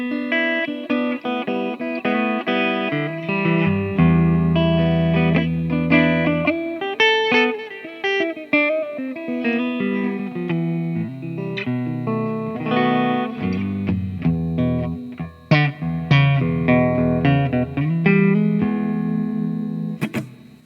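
Clean electric guitar, a Gretsch Deltolux Parlor through a clean amp with reverb, playing melodic chords and single notes, ringing tails between phrases, no talking.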